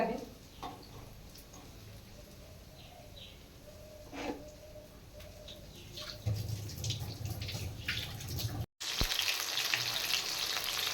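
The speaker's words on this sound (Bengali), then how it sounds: "প্রথমে তাহলে বড়াগুলো ভেজে নিই" Fritters (bora) fry in hot oil with a continuous crackling sizzle that grows louder and denser after about six seconds. A faint voice and a brief dropout near the end break the steady texture.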